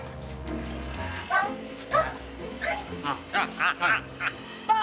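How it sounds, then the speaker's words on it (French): A dog gives a series of short, loud yips and barks in quick succession, with a low rumbling growl beneath at the start. "enregistrer de nouveaux grognements pour mon chien"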